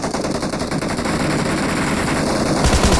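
Rapid automatic gunfire in the battle royale mobile game BGMI, a dense continuous burst of shots filling the whole stretch, loud and sustained with no talking.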